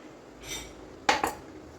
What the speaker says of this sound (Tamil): இப்போ நான் அடுப்பத்தை வச்சுட்டு கடாய் வச்சுருக்கேன்.